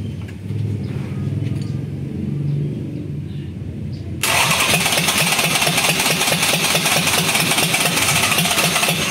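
A Mercedes C240 engine cranks and then fires up, settling into a steady, loud, close idle with a rhythmic pulse; people talk quietly nearby before it starts.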